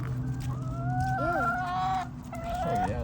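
Backyard chickens cluck and squawk while gobbling a treat of mealworms and crickets, with a few drawn-out calls over a steady low hum. The birds sound close and fairly loud throughout.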